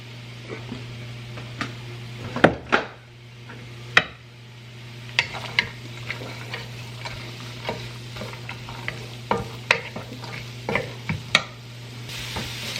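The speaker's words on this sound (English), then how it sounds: "to this oil, I'm gonna add some onion, garlic, carrots, and celery" Onion, garlic, carrots and celery sauté in hot oil for a dinner dish, a soft continuous sizzle under a low steady hum, punctuated by sharp clacks and taps of a utensil stirring the pan.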